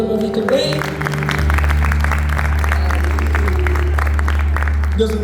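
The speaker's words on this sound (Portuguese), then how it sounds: "Vamos aplaudir a Deus" A church congregation claps together during a Portuguese-language worship service, a brisk rhythmic patter layered over sustained keyboard or organ tones.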